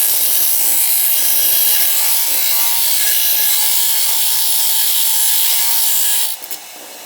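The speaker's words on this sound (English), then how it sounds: "I kind of just work the metal back and forth to notch the width down" Metal is filed back and forth to notch a homemade lock pick, producing a continuous close scraping rasp with steady strokes.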